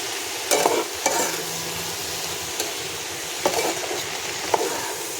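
Spinach cooking with bori (lentil dumplings) in a pan, stirred now and then: a steady, moderately loud frying sizzle broken by several sharp scrapes and clinks from the spoon.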